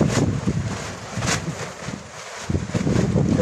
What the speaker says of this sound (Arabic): هواء عالي اليوم